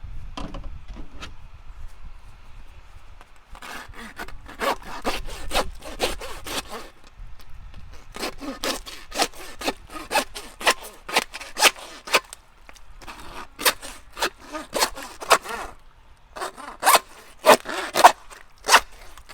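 A knife saws through hog ribs during home butchering, coming in close bursts of rasping, zipper-like strokes separated by short pauses.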